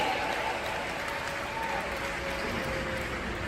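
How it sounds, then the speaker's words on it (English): Steady applause from an audience at a keynote talk, with a dense, even wash of clapping that holds at a moderate level throughout, a faint tone sitting beneath it. "Give Christy a round of applause"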